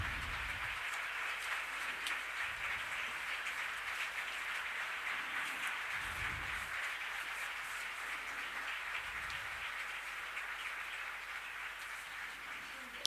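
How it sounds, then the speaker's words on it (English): Audience applause at the International Hrant Dink Award Ceremony in 2025, a steady dense wash of clapping that holds at an even level for the whole stretch, with no talk over it. "let's greet them and give them a big round of applause to all the inspirations that encourage us"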